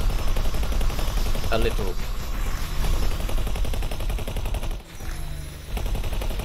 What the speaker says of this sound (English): Something's definitely shooting at it.